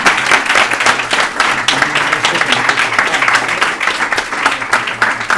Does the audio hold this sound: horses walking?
no